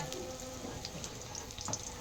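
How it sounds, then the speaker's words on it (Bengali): Eggplant slices fry in hot oil in a wok on a gas stove, giving a soft, steady sizzle with light crackles, faint and close. "তেলটা গরম হওয়া বেগুন কড়াইতে দিয়ে দিলাম।"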